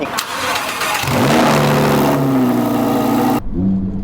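A video-game Lamborghini engine revs up loudly, rising in pitch and holding a strong roar, then drops briefly before revving again, with game-like sound effects.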